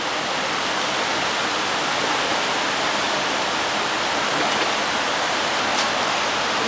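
Broad, constant rushing of the Cali River in Cali, Colombia, steady and fairly loud throughout, close by, with no talking.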